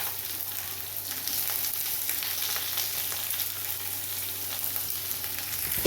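Onions hit hot oil in a pan with curry leaves, garlic, ginger and chilli for an egg and soya curry, giving a steady, close, crackling sizzle that holds evenly throughout, with no talking.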